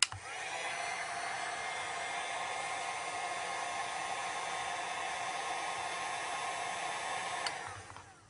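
A heat gun runs steadily on an iPhone 5 housing, softening sticky adhesive; a constant, fairly loud airy blowing hiss continues for about seven seconds and then cuts off.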